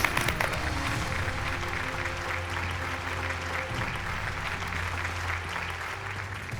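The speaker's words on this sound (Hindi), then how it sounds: "इनके लिए तो तालियां होनी चाहिए।" An audience at a staged women's court session bursts into sustained applause, a steady crackle of many hands clapping over a low hum that stays even throughout.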